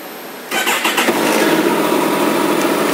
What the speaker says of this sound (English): Let's fire it up here.